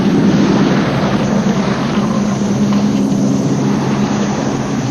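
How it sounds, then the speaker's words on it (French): A military helicopter passes overhead in a jungle setting in Laos, heard as a loud, steady low drone with a broad rushing wash that stays constant throughout, with no talking. "Un hélicoptère militaire nous survole"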